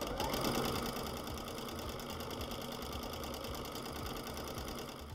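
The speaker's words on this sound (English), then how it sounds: "we're now going to sew around the edge of the pointed stars in a similar way" Sewing machine doing free-motion stitching around the edges of pointed appliqué stars, a fast steady mechanical needle rattle running close and continuous, alone without talk.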